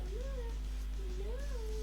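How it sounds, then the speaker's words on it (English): A cat meows twice with rising-and-falling cries, close by and fairly quiet over a steady low hum, during an online gaming broadcast. "That's my cat."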